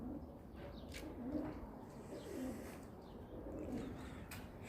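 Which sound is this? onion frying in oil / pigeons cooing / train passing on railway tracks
pigeons cooing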